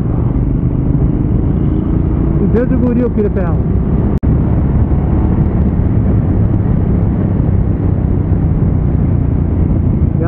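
A motorcycle being ridden, its engine giving a steady, heavy rumble with wind noise that runs unbroken under someone speaking, with one sharp click partway through.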